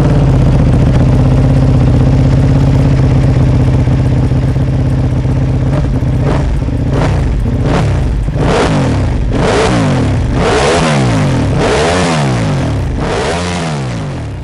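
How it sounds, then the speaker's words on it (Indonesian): A Ducati Panigale V2 955 cc L-twin motorcycle engine rumbles at idle, then revs up and down repeatedly with a deep, growling tone, loud and close. "biasanya kalau dengar Ducati di jalan tuh suaranya kayak growling gitu"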